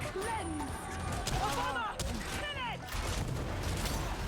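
Heavy stubber gunfire from the Warhammer 40,000 game Darktide, a rapid burst of automatic shots and impacts with clattering mechanical noises, close and loud, mixed with combat effects.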